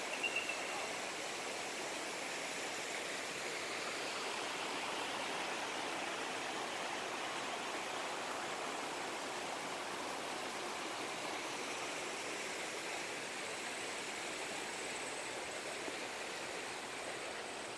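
A large indoor waterfall in a Las Vegas casino pours with a constant, even rush of water, heard alone without talk.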